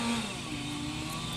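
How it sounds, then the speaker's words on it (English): Machinery cutting down trees outdoors drones on steadily in the background, a faint, continuous mid-pitched engine whine with slight revving, heard from indoors with no one speaking. "Excuse the noise from outside. We're having some trees cut down."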